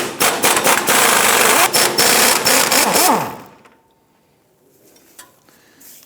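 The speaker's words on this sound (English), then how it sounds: "Now we're going to hook up our impact tool" A pneumatic impact wrench hammers loudly and steadily for about three seconds on a rusty engine mount nut under a 1997-2006 Jeep Wrangler, then stops, leaving faint shop noise.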